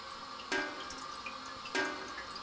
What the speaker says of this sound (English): And... water.